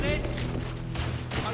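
Bursts of gunfire in the video game The Order: 1886, a rapid fusillade of several loud shots in quick succession, heard close alongside a voice.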